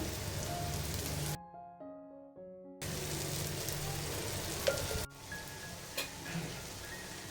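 Fasting dosa batter fries in oil on a pan, giving a steady crackling sizzle. The frying noise cuts out briefly for a short tonal interlude, then returns at a softer, even level.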